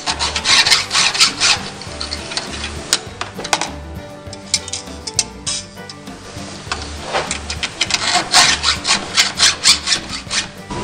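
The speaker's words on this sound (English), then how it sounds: "we're going to roll to the next tooth. And I'm just going to mark it. And we're going to do the same thing and file the other way." Chainsaw chain teeth are filed by hand with a Granberg File-N-Joint sharpener, a run of repeated rasping strokes in rhythmic bursts, close and fairly loud, with a brief quieter pause midway.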